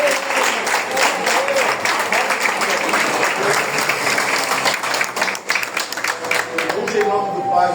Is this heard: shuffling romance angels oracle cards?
no